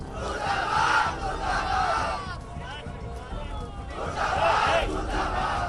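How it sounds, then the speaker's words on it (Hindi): Large village crowd in Uttar Pradesh chants protest slogans against the police, loud and close, the many voices swelling in rhythmic waves with a brief lull in the middle. "पुलिस प्रशासन के खिलाफ गुस्सा है, मुर्दाबाद के नारे लगाए जा रहे हैं।"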